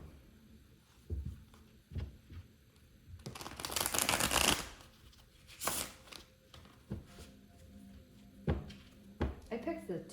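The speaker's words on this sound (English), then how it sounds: "this tarot deck is hard to shuffle too" Hard-to-shuffle tarot card deck being shuffled in short riffling bursts, with a longer loud rush of cards midway and scattered taps and handling noises between, close up.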